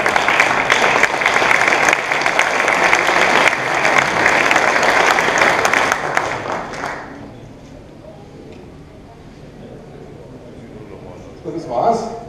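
An audience at a journeymen's certificate ceremony in Heidelberg claps loudly and steadily for several seconds, then the applause fades into a quiet hall, with a few scattered claps near the end.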